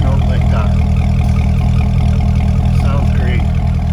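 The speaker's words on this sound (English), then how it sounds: "You can't beat an exhaust note like that." A 2010 Chevrolet Corvette Grand Sport 3LT V8 with automatic transmission gives a steady, deep exhaust rumble close by, holding a constant idle-like drone throughout with no clear revs.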